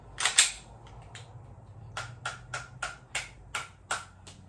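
A Glock 18C BB gun fitted with a drum magazine fires a close series of sharp, snapping shots, a quick double burst first, then about seven single cracks at uneven intervals.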